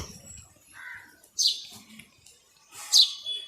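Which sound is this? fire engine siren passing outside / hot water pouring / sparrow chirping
sparrow chirping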